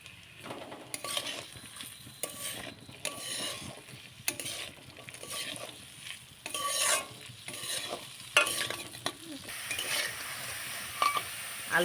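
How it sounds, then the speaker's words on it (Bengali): Potatoes frying with turmeric in a pan, stirred continuously with a spatula that scrapes and clinks against the metal over a soft, steady sizzle, close and fairly quiet. "একটু নেড়ে নিচ্ছি আলুটা। একটু হলুদ দিয়ে দিলাম।"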